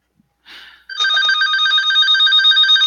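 An unplugged desk telephone rings with a loud, continuous electronic trill, right after a soft clatter.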